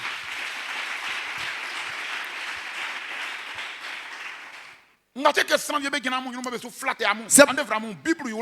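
Church congregation applauding to acclaim the Lord, a dense steady roar of clapping that fades out after about five seconds, followed by someone speaking loudly.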